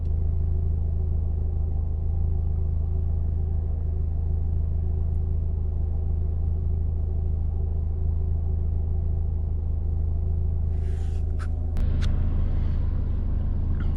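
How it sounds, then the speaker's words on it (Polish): A warmed-up car engine runs at a steady idle, producing a close, even, continuous hum and rumble with a slight change in tone near the end. "Silnik dobrze rozgrzany, tak jak wcześniej."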